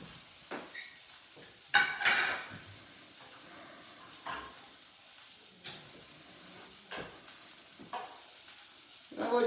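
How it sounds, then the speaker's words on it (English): Chicken alfredo pasta being twirled and plated from a pan, heard as soft, intermittent scraping and clinking of utensil against cookware over a faint sizzle, with quiet pauses between the strokes. "I like to do a twirling motion with the pasta."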